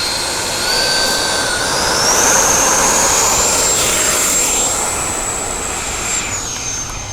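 E-flite F-16 80mm electric ducted fan model jet taking off with flaps at half, a loud, close, high-pitched turbine whine that rises in pitch as it spools up and accelerates, then holds steady.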